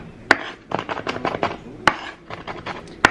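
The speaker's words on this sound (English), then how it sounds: "I'm gonna finish chopping" Knife chopping shallot on a cutting board in a home kitchen, a quick irregular run of close taps with a few sharper, louder knocks spaced through it.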